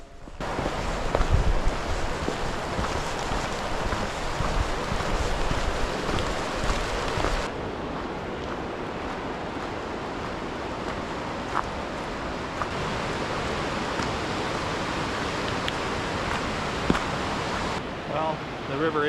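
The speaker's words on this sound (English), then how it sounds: "the river is certainly running a bit more than it was last time I was here" A river running fast and full beside the Pipeline Trail in Nanaimo, BC: a steady, broad rushing of water close by, continuous and fairly loud, with a brief gust or rustle partway through.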